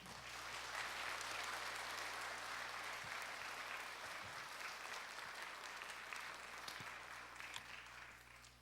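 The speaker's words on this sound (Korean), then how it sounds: "우리 함께 박수로 환영할 때 나오시면" A church congregation at a Friday evening service claps to welcome the pastor, a soft, even, continuous applause heard from a distance over a low room hum, fading slightly near the end.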